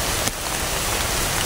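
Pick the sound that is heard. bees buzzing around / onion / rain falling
rain falling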